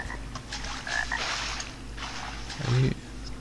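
Frogs croak in the video game Arx Fatalis, a few short croaks standing out over a low ambient game backdrop, with a louder croak near the end.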